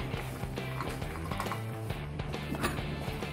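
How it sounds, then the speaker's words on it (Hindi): Crispy fried chickpeas are stirred and tossed in a pan for a restaurant-style chilli chana, giving a steady close rattling and clattering that runs continuously at moderate volume. "ये मिक्स करते वक्त ही आपको आवाज़ आ रही होगी कि कितने क्रिस्पी है छोले"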